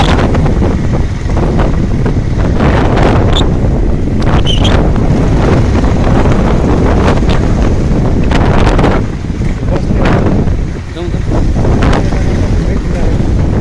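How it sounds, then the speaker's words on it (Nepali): Strong wind roars steadily and loudly into the microphone, buffeting throughout with gusts, and a voice is faintly heard beneath it. "यो हावा र हुरीले नोक्सान गर्न सक्छ धेरै।"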